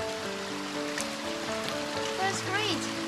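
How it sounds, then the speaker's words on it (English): A creek in Yosemite rushes with a steady broad hiss of running water on a gloomy day, with people talking over it. "the running creek"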